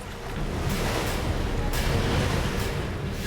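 Whitewater rapids at Lava Falls, with a waterfall drop of about four metres, pour out a loud, steady, close rushing roar that fills the whole clip, with no voices.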